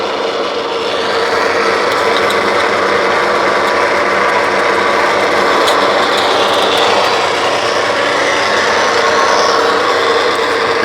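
A used 9-stand, 22-gauge Lockformer roll-forming machine runs sheet metal with a loud, steady mechanical grinding and clatter, continuous throughout with no talk.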